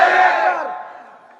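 A woman's single loud, drawn-out shout of the Nara-e-Takbir chant at a religious sermon gathering, strong at first and then fading over about a second.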